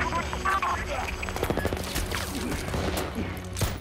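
Bursts of gunfire crackle through a tense armed-combat film scene, rapid shots scattered over a rumbling background while a voice speaks over the action.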